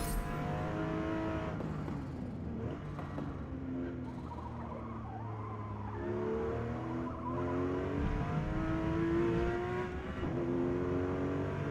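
Race car engine in the Gran Turismo 7 video game, a steady loud drone with rising and falling rev pitch throughout, shifting through gears with no voices.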